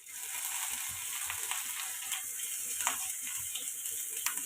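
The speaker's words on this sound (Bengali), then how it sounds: "দেখো, তেলের মধ্যে এবার সামান্য আদা রসুনটা এখন দিয়ে দেবো," Ginger-garlic paste dropped into hot oil for tomato rice, giving a steady close-up sizzle with bright crackling pops and faint clicks of a utensil throughout.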